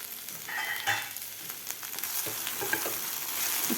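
Okra for bhindi fry is stirred in a pan, a close, steady frying sizzle under a few scraping turns of the spoon.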